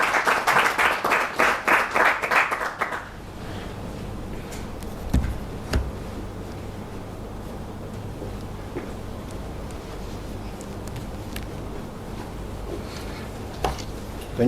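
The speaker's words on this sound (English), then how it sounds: "Let's give him a round of applause." Audience at a Zimbabwe capital markets high school quiz competition claps for about three seconds, a brisk burst of applause that fades into quiet room tone with a few scattered knocks.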